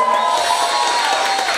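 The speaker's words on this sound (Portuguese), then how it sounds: "Palmas para essa mulher!" An audience at a live jazz show in the Rex Jazz Bar cheers and applauds, a dense, steady wash of crowd noise filling the room without a break.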